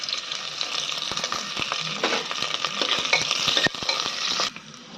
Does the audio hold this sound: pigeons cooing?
no